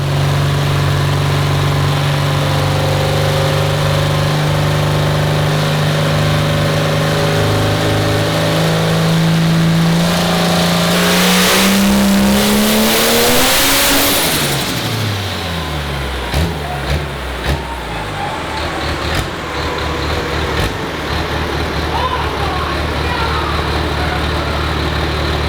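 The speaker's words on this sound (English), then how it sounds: "I'm gonna turn the nitrous on and make a big rip on it" A car engine on a chassis dyno with nitrous, pulling toward 6000 rpm: a steady loud idle swells into a rising, roaring full-power rev that peaks and then drops back. Only the engine is heard, up close.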